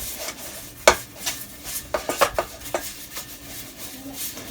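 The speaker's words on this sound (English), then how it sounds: "I'm just gonna grease this baking tin. Just gonna put some butter in it." Butter being spread to grease a non-stick baking tin, heard as close, irregular scraping and tapping of a utensil against the metal tin, with several sharp clinks in a quiet setting.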